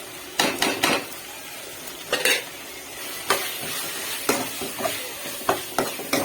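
Masala with tomato, mint and coriander sautés for vada curry, a spoon scraping and clanking against the pan at irregular intervals over a soft sizzle, with no talking.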